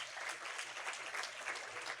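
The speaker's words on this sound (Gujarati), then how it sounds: "વેરી ગુડ, જોરદાર તાળીઓ થઈ જાય બાળક માટે." A classroom crowd applauds a child for a correct answer, with steady, dense clapping running for about two seconds at moderate loudness, quite far off, with no voices above it.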